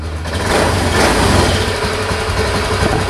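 Fuel-injected motorcycle engine idling steadily after being restarted, close and fairly loud, with a low continuous rumble and a slightly uneven putter throughout, no speech.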